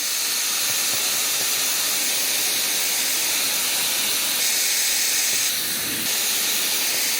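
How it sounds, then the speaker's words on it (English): A few short spritzes of Redken high-hold, quick-drying hairspray during a hair blowout, heard as a steady, close, airy hiss that runs through the whole stretch, with no talking. "This is the high 18 hold quick drying hairspray. And I just do a little spritz."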